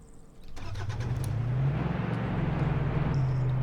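A car in the video game Arma 3 pulls away, its engine rising from a low idle into a steady, moderately loud drone that holds for several seconds with no one talking.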